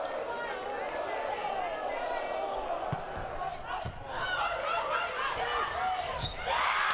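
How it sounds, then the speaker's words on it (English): A home crowd at an LSU women's volleyball match against Texas A&M roars and cheers through a rally. The crowd noise is a steady, full backdrop under a commentator talking throughout, with a few sharp thuds from play. "Hear that home crowd trying to make some noise and break this rally"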